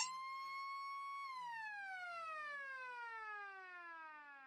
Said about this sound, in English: As the halftime siren sounds here at Eastern Oval.